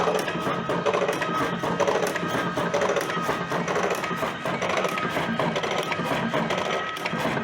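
A TobaTech Ag-01 cigarette rolling machine packs Adıyaman tobacco into 6.5 filter tubes, giving a dense, continuous grinding rattle that stays loud and even from start to finish.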